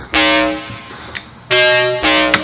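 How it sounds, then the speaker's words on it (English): A heavily distorted FM-synthesized foghorn blares in two loud, brassy blasts with a short pause between them, each bright, buzzy and harmonically rich like a truck air horn. "That was the foghorn."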